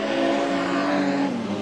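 Modified sedan race cars at Autobarn Carina Speedway during a Carina Classic race, heard as a loud, steady engine drone with a sustained rising and falling tone and no break.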